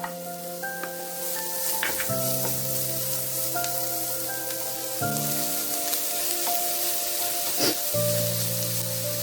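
Chopped vegetables drop into a pan of sautéed onions for momo filling, giving a continuous crackling sizzle with scattered pops and stirring clatter, while a sustained musical tone plays underneath.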